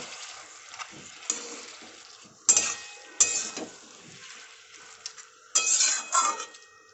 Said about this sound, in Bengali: এবার এর মধ্যে ভেজে রাখা আলুগুলো দিয়ে দেব আবারও খুব ভালোভাবে মিক্স করে নেব